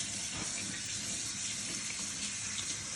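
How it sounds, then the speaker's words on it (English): Cold water runs steadily from a tap to rinse tie-dyed fabric, a continuous close splashing rush with no voices. "All right, I'm going to do cold water."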